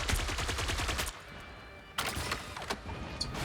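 Rapid bursts of gunfire in the video game Blade Eternity during a ranked match, a dense volley up front, then a pause, then several more sharp shots, loud and close.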